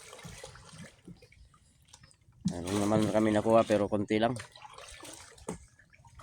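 River water runs with a steady, soft rush while shrimp are being caught, clearest at the start and then sitting beneath someone speaking close by.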